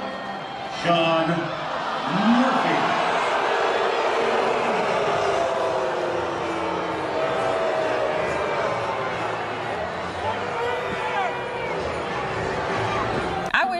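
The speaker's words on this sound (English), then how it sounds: "Here's the crowd's reaction." A baseball stadium crowd reacts to an umpire tossing a bat, a dense murmur of voices and shouts holding steady throughout, with a speaker talking over the noise near the start.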